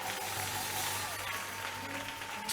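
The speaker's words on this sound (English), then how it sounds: "Clap for Jesus." Congregation clapping during a church sermon, a steady wash of applause that fills the whole clip at moderate level, with a sustained tone and low hum underneath and no talk.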